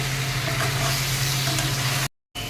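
Steady, loud sizzling of duck meat with potatoes frying in a pan, a continuous crackling hiss with a low hum beneath, cutting off abruptly near the end.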